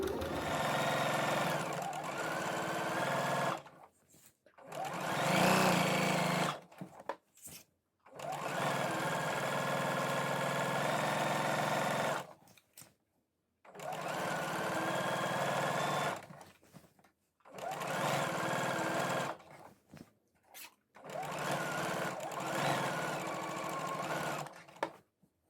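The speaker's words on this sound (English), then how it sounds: "So literally stitch the whole way around the waistband." A sewing machine stitches around the waistband of a pair of shorts in five long bursts of rapid, steady whirring, each separated by brief pauses, close and clear with no talking.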